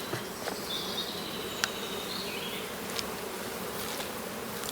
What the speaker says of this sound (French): C'est vraiment noir d'abeilles